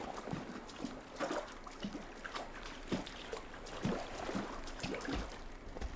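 Video game footsteps slosh and splash through shallow water in Unreal Engine, a steady run of soft wet steps, fairly quiet and close.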